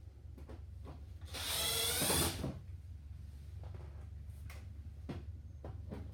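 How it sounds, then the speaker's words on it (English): An impact driver backs screws out of the bulb panel on a SAF-T-LINER C2 8-way light in one loud, rough burst of about a second. Light handling clicks and taps come before and after. "To remove the bulb, I have chosen to use an impact driver to save a little time."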